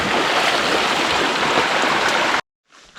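Water rushing loudly in a stream at the last water point before a mountain hut, a dense steady wash that cuts off abruptly near the end.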